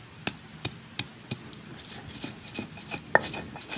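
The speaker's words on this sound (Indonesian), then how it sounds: "Kita tumbuk satu persatu biar dia menjadi lembut, halus ya teman-teman." Dried shrimp and garlic pounded in a mortar for crispy rebon peyek, a steady series of sharp knocks roughly every third of a second, close and moderately loud with no talk.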